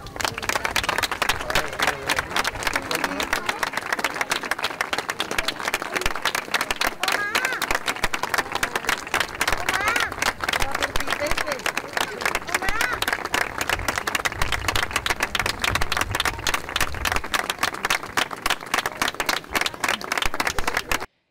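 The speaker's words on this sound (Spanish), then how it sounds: "Un aplauso por favor." Audience applause at a plaque unveiling during an Andalusia Day ceremony in San Roque, a dense crowd of many hands clapping steadily and loudly for about twenty seconds, with voices mixed faintly into the din.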